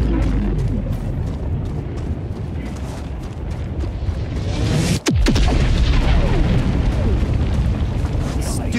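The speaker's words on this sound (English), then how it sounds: "Which way did the rocket go? I want to watch the explosion." A rocket blows up in the video game Helldivers 2 under a rumbling, windy battlefield din, with a sharp blast near the middle followed by a sustained roar.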